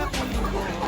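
A brief, close cluck from a flock of Dekalb White ready-to-lay hens, a single loud burst of clucking over noisy background.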